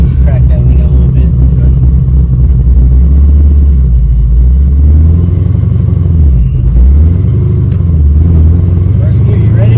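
The engine of a 1000-horsepower Chevrolet Camaro ZL1 rumbles loudly from inside the car, with a deep droning tone that dips and rises again, and voices talk over it.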